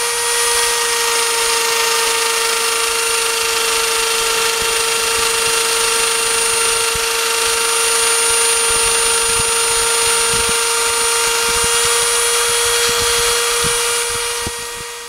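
An electric power tool cuts slots between the 24 copper segments of a rewound armature commutator from a pressure washer motor, giving a steady high whine with strong tonal lines and a constant grinding hiss throughout, loud and close, with no talk.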